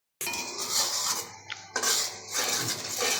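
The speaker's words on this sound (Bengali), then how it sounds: "রান্না করা হচ্ছে সবজি রাইস" Pots and metal utensils clatter and clink continuously while vegetable rice cooks on a stove, with a short pause midway before the scraping and knocking resume.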